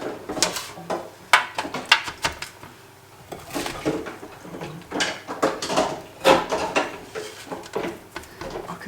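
Granola energy bar mixture spooned onto a lined tray and pressed flat, giving close, irregular scrapes, taps and light clattering with no voices.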